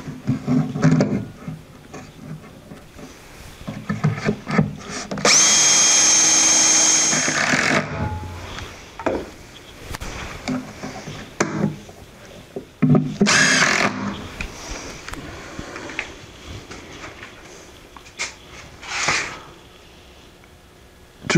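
A power drill drives screws into clamped wood blocks for a router table build, with several loud whirring bursts of a few seconds each separated by quieter handling noise and pauses.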